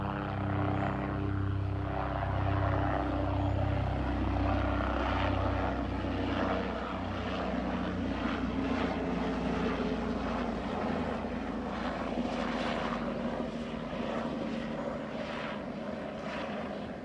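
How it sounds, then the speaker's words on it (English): A helicopter flying overhead at Naples Beach, a continuous droning rotor and engine hum that stays fairly even and distant to moderately near, with no voices. "Here comes the helicopter."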